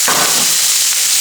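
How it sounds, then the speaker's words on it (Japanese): Meat sears loudly in a hot frying pan, a dense continuous sizzle heard up close with no talking. "よく焼き色つきましたら片面も焼いて"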